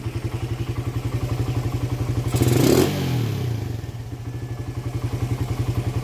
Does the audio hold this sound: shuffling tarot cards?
no